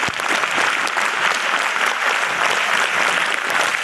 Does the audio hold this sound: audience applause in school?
yes